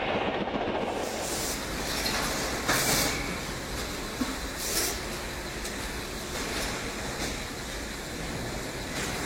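An SNCF BB 16500 electric locomotive hauls a heavy freight train, a dense, continuous rumble and rattle of rolling wagons with rhythmic clatter and a few sharper knocks, loud and close throughout.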